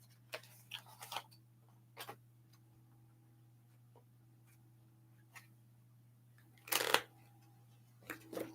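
Cards from an archetypes deck are shuffled and drawn in a quiet room, giving a few soft, brief riffles and slides with longer pauses between them and one louder flurry near the end, over a steady low hum.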